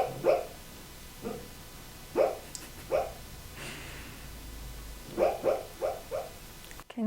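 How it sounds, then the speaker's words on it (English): A dog makes soft, muffled whimpers and little yips in short clusters, with quiet pauses between, like sleepy dream noises. "Can you hear my dog?"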